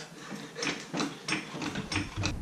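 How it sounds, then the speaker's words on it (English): A car jack being raised under a Scion xB: a run of six evenly spaced mechanical ratcheting clicks, each a short sharp burst, moderately close with no voices. "Let's jack this thing up, get underneath there, and install this thing"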